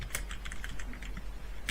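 A computer keyboard clicks as its R key and others are pressed, a quick run of close, crisp key taps with no talking.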